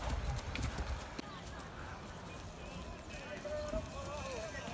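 Horse hooves clop on the ground at a ranch equestrian gathering, sharp and rhythmic at first and then fading into a murmur of outdoor crowd noise, with people talking throughout.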